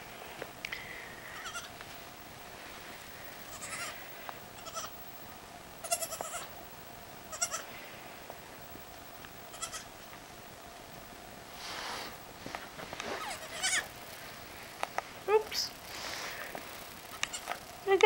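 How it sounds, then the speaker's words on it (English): Small, high-pitched bleats from a young goat come in short bursts, scattered irregularly over quiet background noise. "Baby goat."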